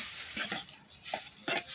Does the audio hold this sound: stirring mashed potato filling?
yes